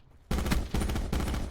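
Fully automatic AR rifle fire in Call of Duty Blackout, three dense back-to-back bursts of rapid shots, loud and close after a moment of near silence.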